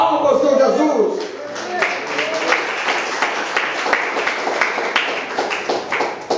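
Church congregation breaking into applause during a sermon, a burst of voice fading into dense, steady clapping that continues evenly for several seconds.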